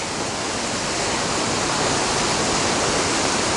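Rushing water of Tyndall Creek on the Pacific Crest Trail at dawn, a loud, steady, unbroken roar of fast-flowing creek water, close by and alone with no voices.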